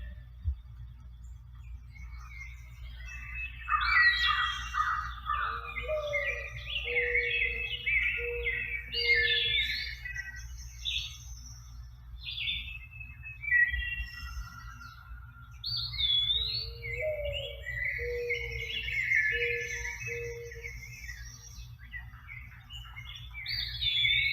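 Several birds chirp and whistle in bright, overlapping phrases, fairly close, over a steady low hum; no voices.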